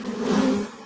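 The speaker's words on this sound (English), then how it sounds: "That's the bees they got out." Honey bees that have escaped from a moved colony buzz in a brief, close, droning hum, heard alone.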